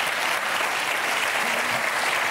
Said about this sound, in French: On applaudit cette histoire.